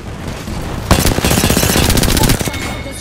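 Rapid automatic gunfire in the video game Apex Legends, a loud close burst of repeated shots lasting about a second and a half after a quieter start.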